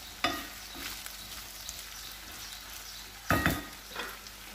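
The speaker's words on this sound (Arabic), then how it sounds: "البصل والبطاطا تقليت شويه" Onions and potatoes frying in a pan, a quiet continuous sizzle with two sharper bursts of stirring and scraping, no voices.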